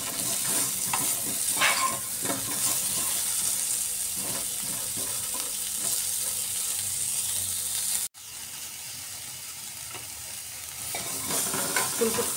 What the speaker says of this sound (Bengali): ফুলকপিগুলো ভাজা হয়ে গেছে